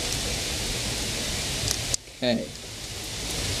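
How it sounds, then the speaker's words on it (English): Steady broadband hiss of hard rain pouring down, loud and continuous, briefly interrupted as a voice speaks a single short word. "it's starting to rain really hard"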